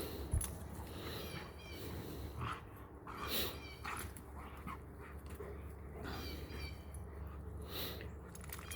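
A dog whimpers and whines softly in a series of faint, high cries over a steady background hum.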